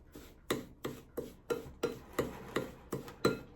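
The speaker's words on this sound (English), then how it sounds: "So I use the back of a large spoon. And you want to mix it well" A large spoon's back works through a homemade olive-oil body scrub in regular rasping strokes, about one every 0.4 seconds, close and moderately loud with no talking.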